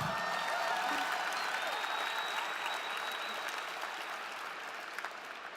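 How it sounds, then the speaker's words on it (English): Sustained applause from a commencement audience fills the space, a dense, steady clapping wash from a large crowd that stays loud and tapers slightly toward the end. "So give yourself a round of applause."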